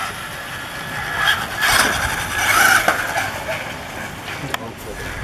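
A Traxxas Bandit RC car runs along a road, its electric motor giving a close, whining buzz that swells in short bursts with tyre squeal and hiss, then fades and rises again.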